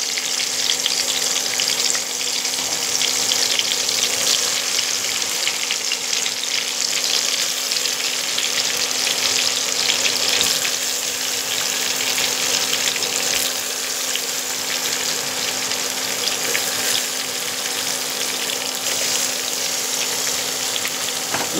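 Brinjals sizzle and crackle in hot oil in a kadai, a dense, steady frying hiss that holds loud and even throughout with no talk.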